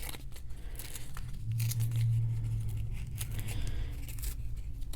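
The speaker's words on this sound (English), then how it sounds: "instead of using the X-Acto knife, I'm just going to tear it" Paper torn by hand for a small planner header at a crafting desk: a scratchy rip over a low steady background hum, with no talking.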